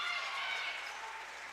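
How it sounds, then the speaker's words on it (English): Volleyball crowd on their feet at a college match between Alaska and Findlay, a steady wash of cheering and applause with a voice talking over it. "Crowd on their feet."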